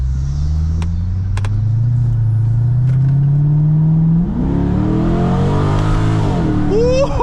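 Chevrolet C6 Corvette engine, heard from inside the cabin with the windows partly down, droning steadily at first and then rising in pitch as the car accelerates hard, loud and continuous with a brief exclamation near the end.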